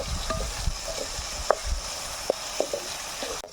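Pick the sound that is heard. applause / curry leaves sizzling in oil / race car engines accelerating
curry leaves sizzling in oil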